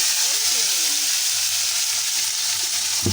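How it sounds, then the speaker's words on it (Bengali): Beef pieces dropped into a pan of fried onions for a garlic beef curry, giving a loud, continuous hiss of hot oil sizzling steadily throughout, with a brief clatter near the end. "আমার পেঁয়াজটা ভাজা হয়ে গেছে এখন আমি মাংসটা দিয়ে দেবো"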